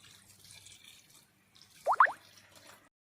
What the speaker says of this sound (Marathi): त्यावर हा पाग ओतूया. कोमट असतानाच ओतायचं.